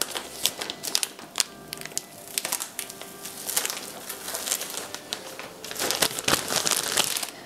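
Plastic foil being peeled off a sheet of marzipan, close crinkling and crackling in irregular bursts that grow busier toward the end.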